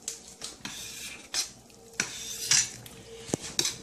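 Metal spoon clinks and scrapes against a pot as butter is stirred in while cooking Jamaican rice and peas, giving several sharp, close, irregular knocks with no talking.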